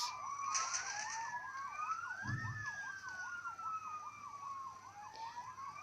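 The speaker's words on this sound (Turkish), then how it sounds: "Kırmızı ışıkta duran ambulans." A wailing ambulance siren in a Spider-Man video game sweeps steadily up and down, loud and close, with a brief low thump partway through and background game noise.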